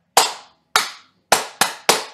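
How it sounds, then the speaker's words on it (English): Five sharp, loud hand claps ring out in a rhythm, two spaced singly and then three in quicker succession, each with a brief decaying room echo and no talking. "I clap first. Y'all clap second."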